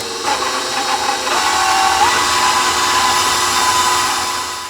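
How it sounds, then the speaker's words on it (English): A small electric hand mixer whirs steadily while creaming egg yolks into carrot cake batter, its motor pitch shifting slightly as it works, loud and close with no speech. "if you're using a little hand mixer, which isn't that powerful, just add them one at a time to thoroughly cream them in"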